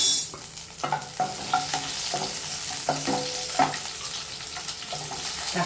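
Onion with cinnamon, cloves and a little fennel sizzles in hot oil in a kadai, a steady close fry broken by repeated scraping and stirring strokes of a spoon.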